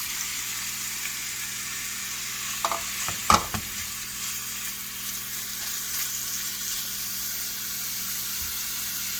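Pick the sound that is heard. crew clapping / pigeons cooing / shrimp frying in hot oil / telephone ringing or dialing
shrimp frying in hot oil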